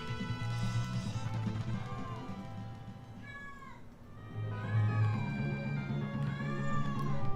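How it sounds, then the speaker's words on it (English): An old cat yowls repeatedly indoors, drawn-out wavering meows rising and falling, heard close over a low hum of background game music. "My old cat just yowling away."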